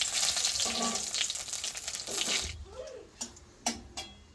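Cumin, bay leaf and dry chillies go into hot oil in a kadai with a loud, bright sizzle that gradually fades, followed by a few sharp clinks of a utensil in the pan.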